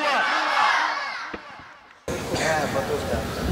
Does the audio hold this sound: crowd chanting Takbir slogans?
yes